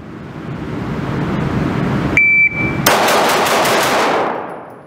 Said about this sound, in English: Now watch me shoot this one faster.